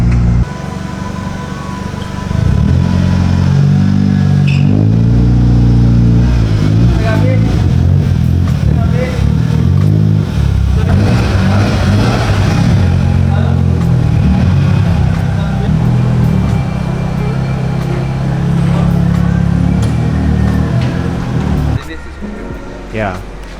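A Proton Saga with a 4G93 engine drives along, its engine droning steadily with a low hum and mild revving throughout, loud and close, while people talk over it.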